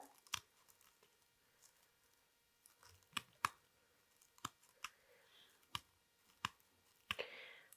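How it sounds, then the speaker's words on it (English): Scissors snip dried rosemary into a pestle and mortar in sharp, quiet clicks spaced unevenly, with faint rustling between cuts and a brief crunchy shuffle at the end. "You want to cut a nice bunch and just cut that up into your pestle and mortar."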